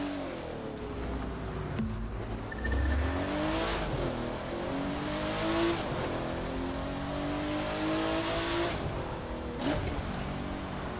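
An Aston Martin Vanquish engine revs in the racing video game The Crew 2. The pitch climbs and drops repeatedly as it accelerates through gear changes, loud and steady with no talk over it.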